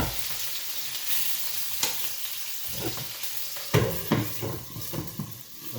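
Bratwurst and potatoes sizzle and fry in a pan, a steady crackling hiss with occasional stirring scrapes and clinks of utensils against the pan, close and continuous with no talking.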